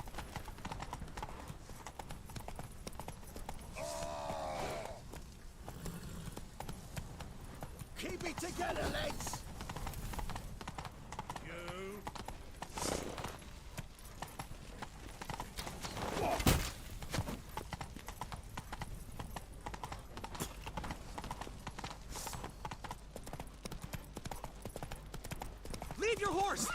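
Horse hooves gallop in a steady clip-clop rhythm through a fantasy video game world in The Witcher 3, running continuously under ongoing voices and game audio, with a brief louder burst partway through.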